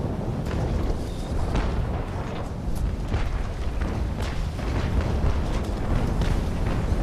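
A broadside of cannon fired from the warship Colossus in a naval battle, heard as a dense, continuous rumble of overlapping booms. The roar stays heavy and sustained throughout, with no voices.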